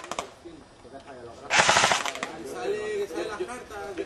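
Rapid video-game gunfire crackles in bursts, loudest in a dense volley midway, while players talk excitedly over the shots throughout.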